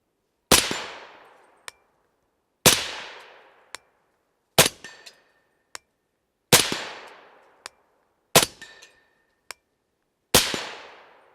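Six sharp, loud rifle shots from a 300 Blackout loaded with Shooter's World Blackout and Alliant 2400 powders, fired at roughly two-second intervals. Each report is followed by a fainter metallic clang about a second later, with no talking.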